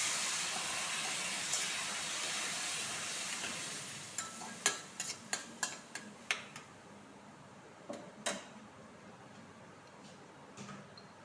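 A ground paste of onion, ginger, garlic and tomato sizzles among fried onions in a pan: a loud, steady hiss that slowly fades, broken by a series of sharp clinks and scrapes from stirring, with no talking.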